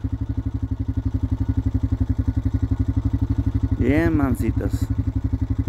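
A motorcycle engine idling close by with a steady, throbbing low putter, while someone briefly speaks over it near the end.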